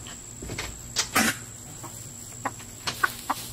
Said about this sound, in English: so we're going to throw a piece of watermelon in for the chickens, Boo.